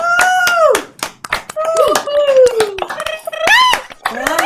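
People on an online video call clap sharp separate claps at close range. Several voices talk and exclaim loudly over the clapping.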